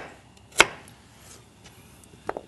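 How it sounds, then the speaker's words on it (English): A kitchen knife strikes a cutting board while julienning carrots: two crisp, isolated chops about two seconds apart, close and clear against a quiet room. "the trick here is we want to julienne our vegetables"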